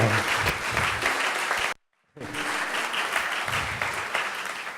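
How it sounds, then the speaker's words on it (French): Audience applause for a festival team at an event in Giverny: dense, loud clapping from a crowd, broken by a brief gap of near silence before it resumes just as full. "Je pense qu'on peut les applaudir."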